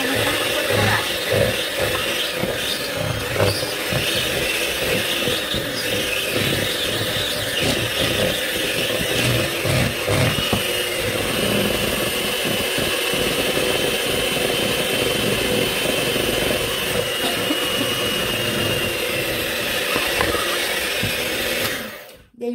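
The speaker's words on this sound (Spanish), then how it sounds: "Vamos a agregar nuestro azúcar glass y vamos a batir un poquito." An electric mixer whirs steadily and loudly for over twenty seconds as it beats cream cheese frosting with powdered sugar for a red velvet cake, then cuts off abruptly at the end.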